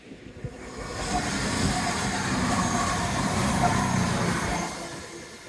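A large train rumbles past along the seawall at Dawlish with a steady broadband roar and hiss, building after a moment and holding loud before easing slightly at the end.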